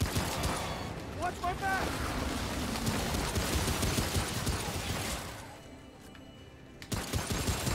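Dense bursts of rapid gunfire and explosions in the co-op shooter Remnant on Nightmare difficulty, loud and continuous under excited shouting from players, easing off near the end.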